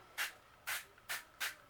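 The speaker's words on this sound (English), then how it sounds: "I'm going to go ahead and spray its little companion too" A spray bottle mists water onto a diamond painting canvas in four quick, even bursts, close and clear with silence between each.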